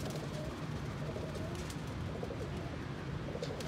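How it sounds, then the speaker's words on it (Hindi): Pet pigeons coo at home, low repeated throaty coos rising over a dense, steady background rush, nearby and moderately loud, with no talking. "ये कबूतर का शौक है, ये हमारे अपने घर का कबूतर है माशाल्लाह।"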